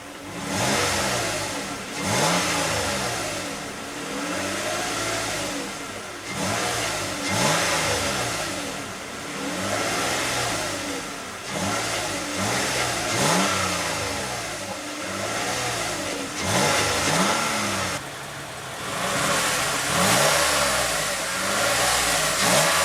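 A 2015 Toyota Highlander's 3.5 L V6 is revved repeatedly from idle, each rise and fall of engine pitch repeating steadily, close and loud with no talking.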